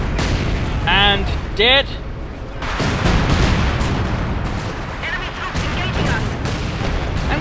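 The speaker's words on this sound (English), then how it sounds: "Looks like some light artillery in." Light artillery shells landing in a Company of Heroes 2 2v2 match, a series of dull booms and rumbling impacts spread through the clip with battlefield noise, mostly under steady commentary.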